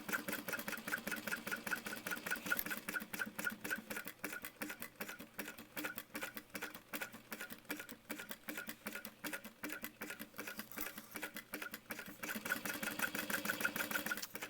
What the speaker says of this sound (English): I'm following around the outside edge, just going really slow